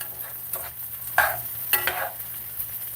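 Food browning in a pan, with a faint steady sizzle and a few louder stirring scrapes at uneven intervals, up close, with no talk.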